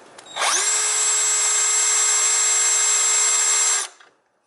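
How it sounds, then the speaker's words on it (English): A power drill whirs up and spins at a steady high whine for a few seconds up close, then winds down and stops. "We are drilling out this hole"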